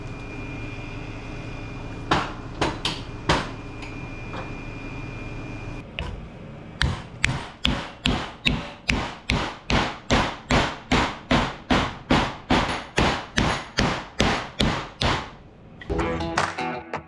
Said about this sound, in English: We'll track this up in the vise and we'll start hammering on it.